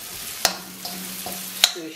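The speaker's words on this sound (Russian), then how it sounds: "обжариваем буквально с минуту" Meatballs fry in a pan for Afghan kofta, a steady sizzle running under two sharp stir clatters from a utensil and a few fainter taps.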